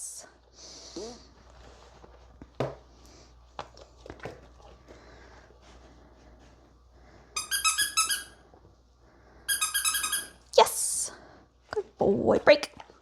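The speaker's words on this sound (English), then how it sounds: "Now we'll add our new distraction. Got our squeaker." A squeaker toy used as a distraction during dog training gives several bursts of rapid, shrill squeaks in the second half, with a dog snorting and panting and a person talking throughout.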